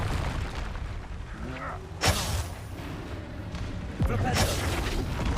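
Fiery Confringo and Incendio spell blasts in the video game Hogwarts Legacy, two sudden booming bursts about two seconds apart over a continuous rumbling game soundscape, with voices in the background.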